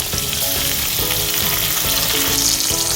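Green chillies and chopped tomato hitting fried potatoes in hot oil, a loud, continuous close sizzle with crackling throughout and no talking.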